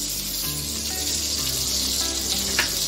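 Steady, close sizzling of ghee in a hot pan for pav bhaji, a constant hiss with a brief sharper spatter near the end.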